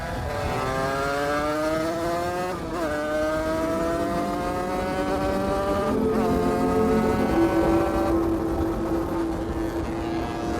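Small 50cc dirt bikes, a Beta and a Sherco with tuned top cylinders, ride past on a road trip, high two-stroke engines whining and revving up through the gears, loud and continuous with shifting pitch.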